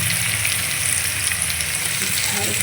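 Sliced onions with salt fry in a hot pan for a Bengali pabda fish jhal, a loud, steady sizzle that runs unbroken throughout.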